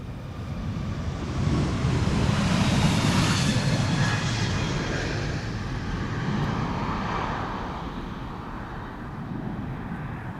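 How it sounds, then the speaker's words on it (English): A year-old JetBlue Airbus A321neo takes off from Amsterdam's Polderbaan, its loud jet rumble peaking early and then fading gradually as the aircraft climbs away, with no talk over it. "this is JetBlue flight 632, an A321neo"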